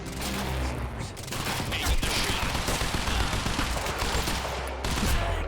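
Sustained gunfire in the Quantum Break video game, a dense, loud barrage of shots with continuous overlapping bursts throughout.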